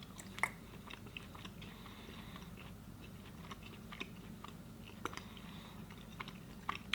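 Dry saucisson being chewed close up, with soft irregular crunching and biting clicks over a low, steady background hum, no talking.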